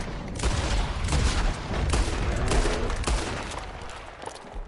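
Rapid gunfire crackles in the video game Red Dead Redemption 2, a dense volley of overlapping shots with booming low end, loud and continuous for several seconds, with no talking.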